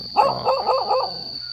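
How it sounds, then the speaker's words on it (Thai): Several quick dog barks in a short burst near an elephant's chained enclosure in rural Thailand, fairly close, with a steady high whine running underneath and no talk. "เห่าอะไรเนี่ยฮะ"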